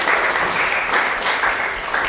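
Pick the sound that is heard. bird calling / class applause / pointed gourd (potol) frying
class applause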